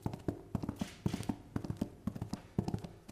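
Foley horse hooves clip-clopping at a distance, a steady run of soft, rhythmic hoof strikes repeating throughout without any voices.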